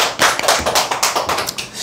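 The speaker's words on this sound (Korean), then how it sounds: "네, 박수 한번 치시죠." Audience applause in a seminar or lecture hall, a brief burst of many hands clapping with uneven taps, fairly close and lively, no talking over it.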